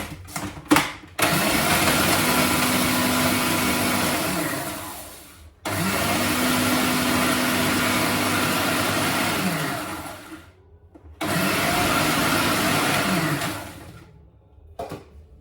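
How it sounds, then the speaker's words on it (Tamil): An electric mixer whirs steadily as margarine is beaten into a cheesecake mixture, running in three long bursts with brief stops between them, close and fairly loud, with no talking. "மாஜரி எடுத்து இதோட சேர்த்து அடியுங்க"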